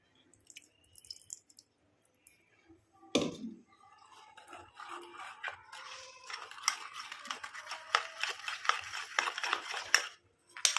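A spoon mixes face pack powder with milk in a small bowl, starting with a sharp clink, then a run of quick wet scraping and tapping strokes, close and fairly quiet.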